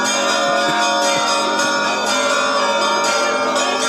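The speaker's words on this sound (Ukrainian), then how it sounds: "Свято розпочали з передзвону дзвонів." Church bells pealing steadily at a festival in Chernihiv, a dense ringing wash of overlapping tones with regular strikes, loud and continuous throughout.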